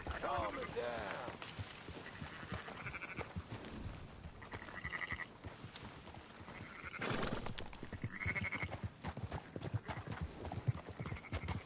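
Horse hooves clop in a steady trot in Red Dead Redemption 2 while the horse neighs and sheep bleat, with someone talking over the sound throughout.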